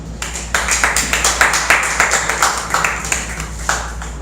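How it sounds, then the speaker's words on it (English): A small classroom audience claps for a student presenter at an engineering report on shear and moment diagrams, the separate handclaps distinct and fairly close, falling into a loose rhythm over a low steady hum. "Let's give a round of applause for David."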